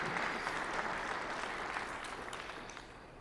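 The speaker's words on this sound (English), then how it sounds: "so that is worthy of a clap" Audience applause at a county government State of the County address in Jefferson County, a steady wash of clapping from a modest crowd that tapers slightly toward the end, with no talk over it.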